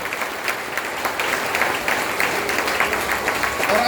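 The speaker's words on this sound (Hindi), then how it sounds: "एक बार जोरदार ताली बजाए सर के लिए" An audience at an RCM business meeting in Jamshedpur applauds loudly and continuously, a dense wash of clapping that holds steady and swells slightly toward the end, with no voices over it.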